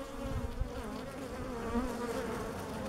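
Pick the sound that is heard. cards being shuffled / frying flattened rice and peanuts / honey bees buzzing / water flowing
honey bees buzzing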